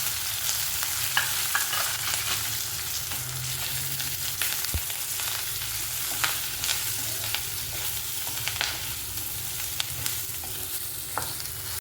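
Cucumber pieces sizzle steadily in hot oil for pickle, with repeated stirring scrapes in the pan, close and continuous with no talk.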